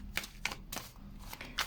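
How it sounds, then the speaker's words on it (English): A deck of tarot-style reading cards being shuffled by hand, heard as several quiet, close riffling bursts in an irregular rhythm, with no voices. "We're going to begin by shuffling the deck."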